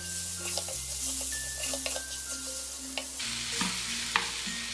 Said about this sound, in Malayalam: ഇതുപോലെ ഇട്ടിട്ട് ഒന്ന് ഇളക്കി കൊടുക്കാം